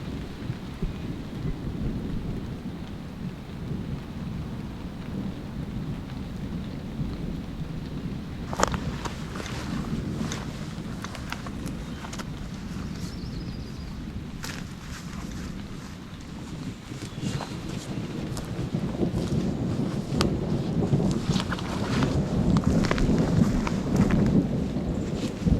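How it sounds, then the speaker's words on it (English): Thunder from a storm in the distance rumbles low and long beneath steady rain and wind, with rolling booms building toward the end and no voices heard. "a nasty thunderstorm to the south going away from us. It is starting to boom pretty good."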